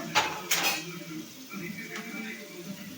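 A spoon clanks against a cooking pot while mutton pieces are stirred into masala, two sharp metallic knocks up front and then soft scraping, with a voice talking faintly underneath.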